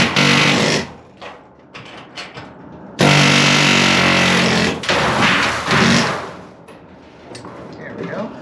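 Rivets are set into a dropped ceiling with a rivet tool, giving sharp mechanical bursts and clanks that start and stop irregularly. The work is close and loud, and a voice talks briefly between the bursts.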